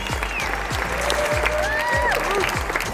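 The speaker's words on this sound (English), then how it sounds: "Please, everybody, a big round of applause for the Good Neighbor Pharmacy of the Year." An audience at a pharmacy award ceremony claps in a dense, steady burst of applause, with a few voices calling out over it.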